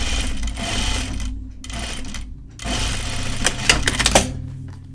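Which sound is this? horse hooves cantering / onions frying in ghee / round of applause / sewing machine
sewing machine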